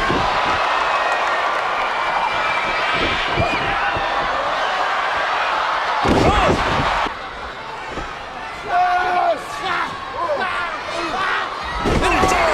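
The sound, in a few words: wrestling crowd chanting yes we can in Spanish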